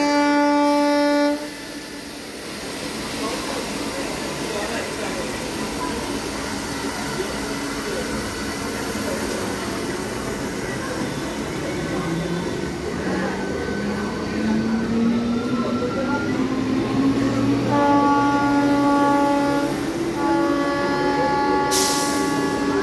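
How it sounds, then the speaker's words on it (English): An Indian Railways Bandel–Howrah down local train pulls into platform 1 at Hooghly station, a steady rumble of rolling wagons with a rising drone and horn-like tones, loud and close, with faint station ambience throughout. "train number 666 down Bandel Howrah local is arriving on platform number 1"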